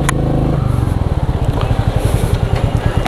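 A new Royal Enfield Meteor 350 motorcycle with a 350 cc J-type engine runs close by, its loud, rapid thumping exhaust pulses steady and rhythmic, with a few brief clicks above.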